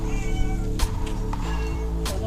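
A person imitates a cat with a few drawn-out meows, close and fairly loud against a steady background hum, with two sharp bursts between them.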